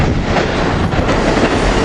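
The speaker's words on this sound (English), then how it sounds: "ACS 64 643 leading train 618 into 30th Street." A passenger train led by an Amtrak ACS-64 electric locomotive rolls into Philadelphia's 30th Street Station, a loud, dense, continuous rumble and rush of wheels close by with steady wind noise.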